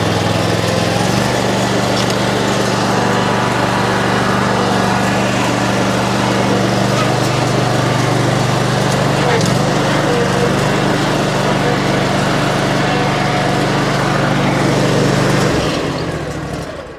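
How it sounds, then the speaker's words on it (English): A lawn mower running steadily close by as it mows grass, a loud continuous engine drone with a steady hum that holds throughout and drops away at the very end. "I'm gonna go ahead and mow it."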